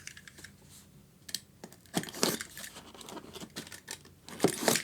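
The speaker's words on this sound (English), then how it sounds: "you do need to cut the tape to get into this" Tape is cut on an unboxing package for an Akai MPK Mini MK3: quiet, irregular scratching, clicking and crinkling, with a few sharper slices and taps close by.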